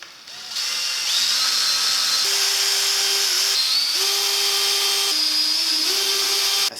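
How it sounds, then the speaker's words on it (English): A power drill whines loudly and steadily while drilling a pilot hole in a camper van bed build, its pitch stepping up and down as the trigger is squeezed and eased over several seconds. "we need to drill a pilot hole, as always"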